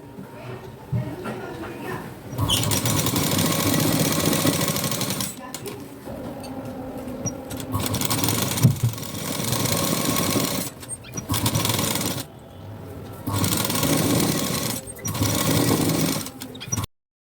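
Blouse pieces being stitched on a sewing machine, its steady mechanical whirring running in several loud bursts separated by short pauses, with speech faintly in the background.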